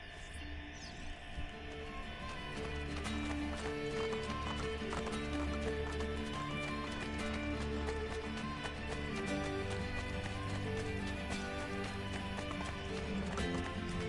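Hooves clip-clop in a fast, steady rhythm of a galloping horse in Assassin's Creed Brotherhood, continuous throughout, set against a constant droning musical background.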